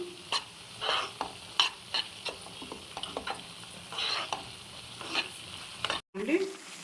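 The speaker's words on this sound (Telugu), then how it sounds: "ఈ విధంగా బాగా ఎర్రగా వేసుకోవాలండి సిమ్లో పెట్టుకొని" Stirring and frying in a pan over a low flame while cooking Hyderabadi mirchi ka salan, with a steady soft sizzle and repeated scraping strokes of a spoon, close and moderately loud, with no talking.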